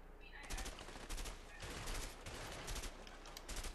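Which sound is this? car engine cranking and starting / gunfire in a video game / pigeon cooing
gunfire in a video game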